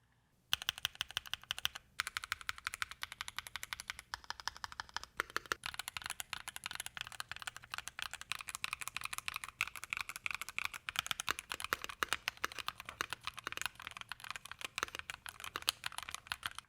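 Continuous fast typing on a mechanical keyboard fitted with a heavy duty packing tape mod, with dense, even clacks and keystrokes that run steadily and close up for the whole stretch.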